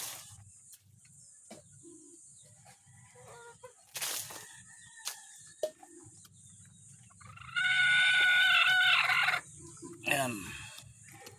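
Native chickens in a sunny backyard coop cluck sporadically amid quiet scratching, then a rooster lets out one loud, drawn-out crow, followed by softer clucks.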